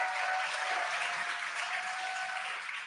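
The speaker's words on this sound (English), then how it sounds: "You can hear the crowd here." A crowd applauds and cheers steadily as the SpaceX Dragon Freedom capsule descends under two drogue parachutes, a dense continuous wash of clapping at moderate level throughout with no clear talk.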